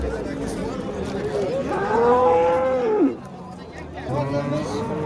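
Cows moo loudly at a livestock market, one long drawn-out low call standing out close by, with more lowing toward the end over a steady crowd murmur and nearby talk.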